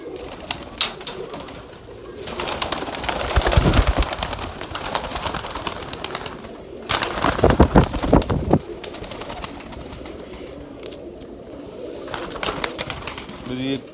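Pigeons coo in a loft, soft throaty calls repeating under someone talking steadily close by, with general background rustle and a few wing movements.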